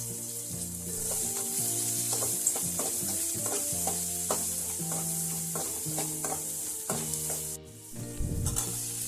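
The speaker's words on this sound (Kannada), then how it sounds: "ಒಂದು ಈರುಳ್ಳಿ ಹಾಕಿ ಫ್ರೈ ಮಾಡಿ." Onion with cumin and fennel seeds frying in a pan, a steady loud sizzle with repeated stirring scrapes and clinks running throughout, no voices.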